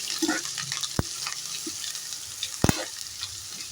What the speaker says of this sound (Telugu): అది వేసుకొని ఒకసారి ఇలా బాగా ఫ్రై చేసుకోవాలి